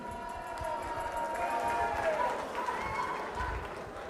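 Audience applause at a local song contest, a steady dense wash of clapping and crowd noise with a faint musical tone running through it, lasting throughout at moderate distance.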